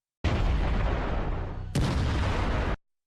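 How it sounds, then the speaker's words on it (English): Explosives inside an SA-5 Gauntlet position detonating after a kamikaze drone strike, a loud continuous roaring blast with a second sharp burst partway through, ending in an abrupt cutoff. "An explosion of incredible force leaves behind nothing but ashes."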